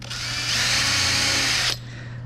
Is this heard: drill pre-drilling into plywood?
yes